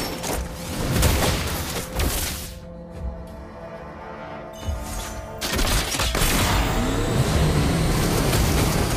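A car drives past with a rising and falling engine roar and road noise, going almost quiet in the middle before the driving sound builds back up and holds steady at the end.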